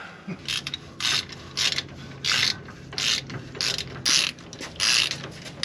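Ratchet wrench tightening bolts during a car axle hub replacement, with repeated bursts of rapid clicking at a steady rhythm, close and fairly loud, and no talk.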